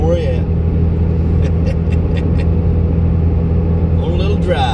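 A car on a snowy Sunday drive hums with a steady low engine and road rumble heard from inside, loud and constant, with a few short clicks and voices talking over it.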